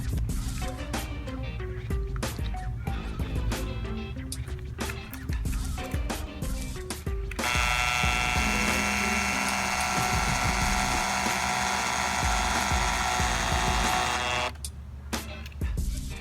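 A power drill drives a hanger screw into a 30-inch garden decor frame in a steady sustained whir. Shorter ratcheting bursts of tool noise come before and after it, close and loud.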